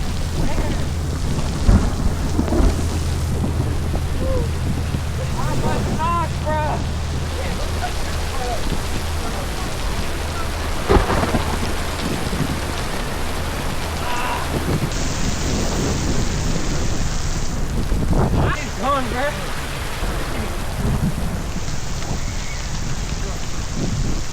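Heavy rain pours steadily on a surface during a thunderstorm in the Great Smoky Mountains, with rumbling thunder rolling through and brief voices and birdlike chirps breaking in over the constant downpour.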